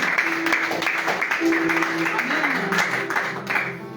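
A church congregation claps and applauds together for a few seconds, a steady wash of hand claps with voices mixed in underneath.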